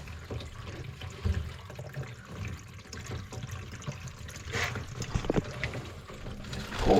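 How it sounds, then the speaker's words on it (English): Water pours steadily from the top overflow of a tank, a continuous splashing wash with a few louder gushes and trickles near the end, no talk over it. "Oh, it's pouring out from the overflow at the top."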